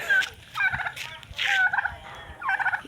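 An angry turkey gobbles repeatedly in quick rattling bursts, close and loud, with short pauses between calls.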